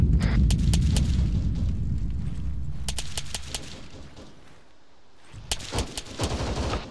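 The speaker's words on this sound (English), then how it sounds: "Fire's coming from the bunker to the north." Gunfire from a bunker in the video game Arma 3, a dense rattle of rapid shots with booming low rumble, heavy at first, thinning midway, then another burst of sharp cracks near the end.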